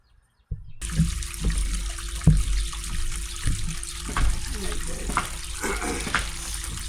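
Water washes collected black sand over a sluice box, giving a steady close rush with scattered gritty sloshes and scrapes; a faint voice comes and goes beneath it.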